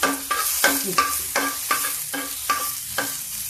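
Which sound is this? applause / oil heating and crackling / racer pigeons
oil heating and crackling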